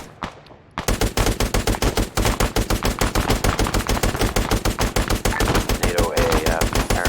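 Rapid automatic gunfire from turrets in a military shooter game, a loud, dense string of evenly spaced shots starting abruptly after a brief quiet moment and continuing without pause.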